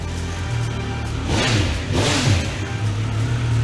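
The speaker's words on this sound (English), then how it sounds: "we've got even more of that triple bark from the 1200 RS" A Triumph Speed Triple 1200 RS three-cylinder motorcycle engine idling with a steady low throb, then blipped twice in quick succession, each rev rising and falling back to idle, close and fairly loud.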